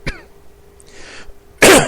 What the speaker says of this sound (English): My apologies for the coughing.